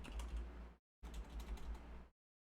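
Rapid clattering of keys on a computer keyboard while a gamer at a PC tries to launch a game on Steam, two close bursts of fast typing with a short pause between and silence at the end.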